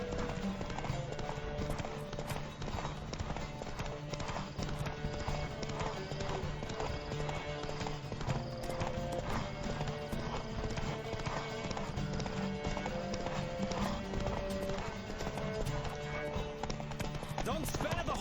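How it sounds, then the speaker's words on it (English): Rapid, rhythmic hoofbeats of a galloping horse in The Witcher 3 run continuously, layered over a dense game soundtrack with music and effects. "Don't spare the horse!"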